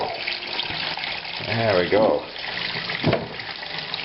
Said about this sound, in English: Turn the water back on. Get it heated up.